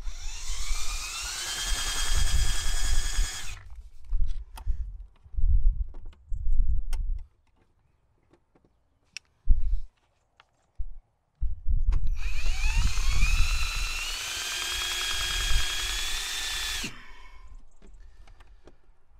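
Power drill boring a hole into a VW T4 van, two sustained whining bursts near the start and end, separated by quieter clunks and handling noises.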